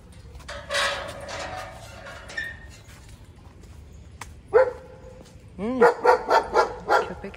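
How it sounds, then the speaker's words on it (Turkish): A dog in a quiet park barks outdoors, first a scattered bark or two, then a quick run of four or five sharp, fairly close barks near the end, with faint background noise between them. "Köpek de var."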